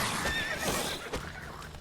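Roach, Geralt's horse in The Witcher 3: Wild Hunt, gives a loud, close neigh with a shaky whinny, then snorts, with faint hoof clatter underneath, in a swampy outdoor area.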